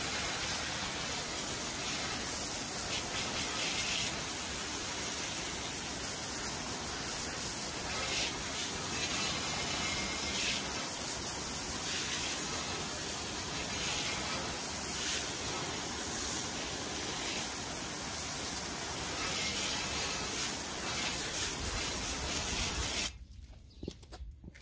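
Pressure-washer water spray rinsing wheel cleaner off an alloy wheel: a loud, steady, broadband hiss that runs continuously for over twenty seconds, then cuts off abruptly near the end.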